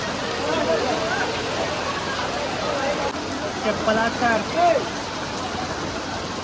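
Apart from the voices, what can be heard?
heavy rain pouring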